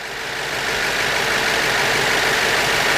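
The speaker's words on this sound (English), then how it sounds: "Engine is running right now." A BMW 7 Series engine from the 750i/760Li range with a 6HP automatic transmission idles during a transmission fluid service, heard from underneath the car as a steady, close, continuous hum with no talking.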